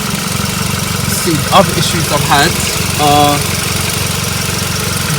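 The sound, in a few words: Volkswagen Golf MK5 FSI engine idling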